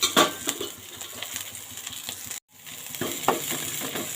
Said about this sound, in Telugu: జీలకర్ర వేసుకొని కరివేపాకు వేసుకుంటున్నానండి